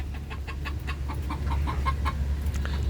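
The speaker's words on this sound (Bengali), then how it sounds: "যে দুইটা আমরা মোরগ রেখেছি" Chickens cluck steadily on a small backyard poultry farm, a few layer hens and two roosters kept together, with repeated short close clucks running throughout.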